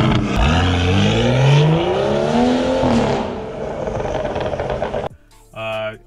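Tuned BMW F30 with an N55 engine, VRSF high-flow catted downpipe and aftermarket exhaust, revving loudly with rising and falling engine pitch for about five seconds before cutting off, then a brief tonal burst.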